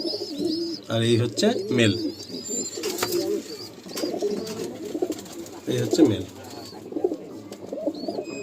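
Pigeons coo in a high-flying pigeon loft, soft repeated throaty calls and scattered chirps close by, while someone talks over them for much of the time.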